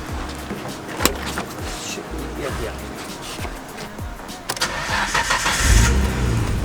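A stock Toyota Supra engine runs at a fairly quiet, steady idle, then revs up near the end, with some voices talking over it.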